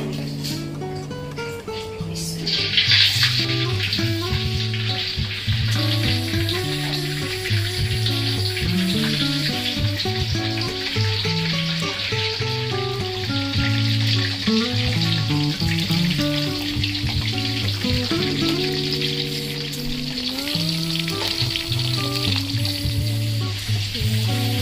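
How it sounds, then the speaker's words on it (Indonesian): Shrimp frying in hot oil for an Indonesian butter-sauce dish, with a steady loud sizzle that starts up as the shrimp go in and runs throughout under some background music. "Digoreng sampai berubah warnanya ya."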